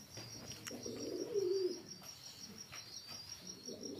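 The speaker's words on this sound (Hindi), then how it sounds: "अच्छा टीरा कबूतर है" A teera pigeon coos at close range in a low, rolling call that swells once near the middle, with faint chirps and a steady high whine in the background.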